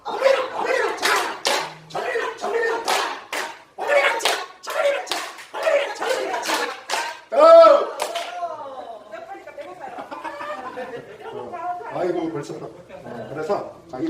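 Hands clap in a steady, repeated rhythm during a Korean group brain-training exercise. Sharp claps fill the first half while voices chant along, then the clapping gives way to talk.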